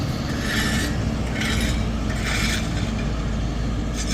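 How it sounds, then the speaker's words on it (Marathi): A loud, constant mechanical rumble with rhythmic rasping sweeps about once a second from a sweeping machine cleaning a school ground. "या मशीनच्या माध्यमातून कसं शाळेचं मैदान चकचकीत स्वच्छ सुंदर बनवण्याचं काम"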